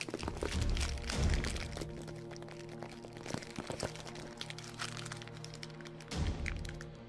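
Plastic packaging scrunched up close to mimic bone cracking for a horror sound effect, giving sharp, irregular crackles and snaps with a few heavier thuds, loud and dry with no voices.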